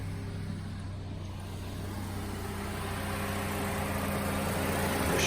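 A 2008 Honda CR-V EX with the 2.4-litre VTEC engine idles smoothly just after a push-button start, a steady, even hum with a low drone that swells slightly toward the end, no voices.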